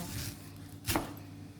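A single knife cut through firm fruit, one crisp slicing crunch in an otherwise quiet space with low background hum.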